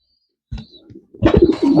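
Racing pigeons in a loft give low cooing calls, a short murmur, then a louder burst of overlapping coos close by after a brief pause.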